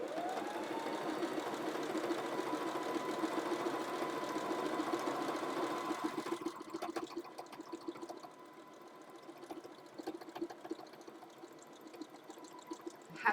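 A sewing machine stitches the last stretch of a hem on an off-shoulder tie top, a steady close mechanical whir running for about six seconds before dropping to quieter, uneven clicking and handling.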